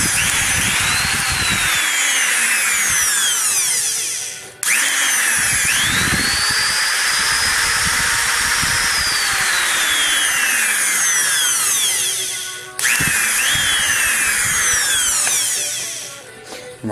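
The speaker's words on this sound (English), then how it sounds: "that is my small high-speed motor right there" A small high-speed electric motor spins up with a rising whine, runs at a loud close pitch, then cuts off; the cycle repeats three times with brief gaps.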